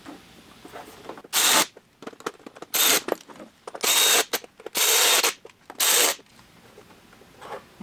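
A power tool tightens bolts on a Rokblokz fender extension kit for a 2023+ Speed UTV El Jefe, giving five loud whirring bursts between quieter clicks and handling noises.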